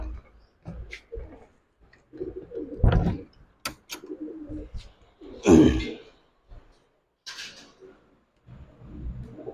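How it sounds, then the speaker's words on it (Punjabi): Cooing from racing pigeons and their chicks in a Punjabi village loft comes in bursts, with a few clicks and shuffles between them. The birds sound close, and no one talks. "ਤਿੰਨ ਬਾਜ਼ੀਆਂ ਜਿੱਤੀ ਆਪਣੀ ਕਬੂਤਰੀ"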